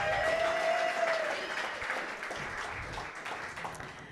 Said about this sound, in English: How about another round of applause for Katy and Chris?